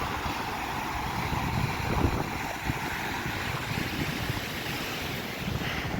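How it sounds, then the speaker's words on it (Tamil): Rough sea surf on Besant Nagar beach, churned up ahead of heavy rain, roars as a steady, loud wash of waves with wind buffeting the microphone throughout. "கடல் அலையோட சீற்றம் கொஞ்சம் அதிகமாக தான் இருக்குது"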